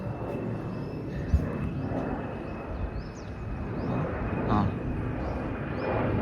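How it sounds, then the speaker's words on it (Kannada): Airplanes fly overhead, heard as a steady, broad, distant engine roar that swells and fades slightly, with some faint background sounds and a person's voice faintly audible. "ಬರೀ ಫ್ಲೈಟ್ಗಳು ಹೋಗ್ತಾ ಇರ್ತವೆ ಇಲ್ಲಿ."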